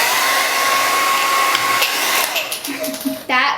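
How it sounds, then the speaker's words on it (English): A handheld blow dryer running on its high setting, a loud steady roar of rushing air with a constant whine that holds throughout, then falters near the end as a voice speaks over it. "here's my blow dryer, and I'm going to put it on high"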